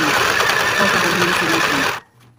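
A portable sewing machine runs with a steady, loud mechanical whir for about two seconds, then stops abruptly, leaving near silence.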